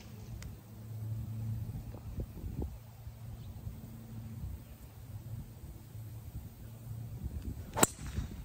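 A golf driver strikes a ball off the tee at Bayonet at Puppy Creek Golf Club, one sharp crack near the end after a quiet stretch of low background hum.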